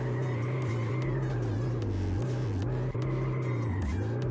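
A car drifts in a video game on an Assetto Corsa map. A loud, continuous engine drone wavers in pitch as the throttle rises and falls through the slide, with no talking.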